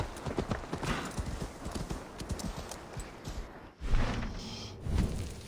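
Rhythmic hoof clip-clops of a horse trotting in Assassin's Creed Valhalla, steady close footfalls with a brief pause and then a louder, breathy horse snort toward the end.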